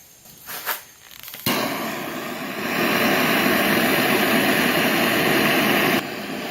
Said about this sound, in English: I have MAP gas, so we're going to use MAP gas to get this started.